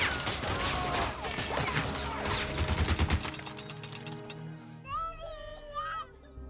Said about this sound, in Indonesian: Book pun mulai menembakkan senjata mesinnya ke arah desa